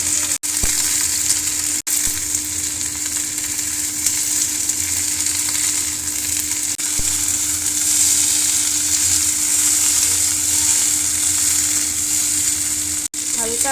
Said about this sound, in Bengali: পেঁয়াজ ভাজা হয়ে গেছে, তারপরে সমস্ত সবজিগুলো দিয়ে দেব।